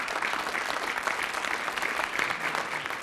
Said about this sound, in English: I think it's a round of applause for Miri with Stu.